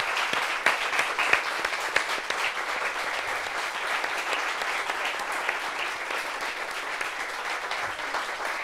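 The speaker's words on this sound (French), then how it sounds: "Applaudissements pour lui s'il vous plaît." Studio audience applauding a guest on a talk show, dense continuous clapping from many hands at an even level throughout, with a few sharper claps standing out early.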